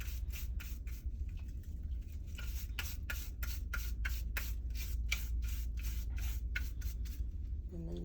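Wet brush scrubbing surgical instruments, working over ratchets, crevices and handles, with a steady run of rapid bristle strokes against metal that carries on throughout under a low background hum.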